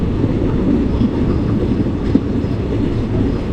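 A passenger train pulling into Manapparai station after Tiruchirappalli, heard from on board as a loud, continuous low rumble of wheels and carriage noise, steady for the whole stretch with one brief clack and no speech.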